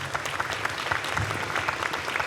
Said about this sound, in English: Let's give Dr. Anderson Harry another big round of applause.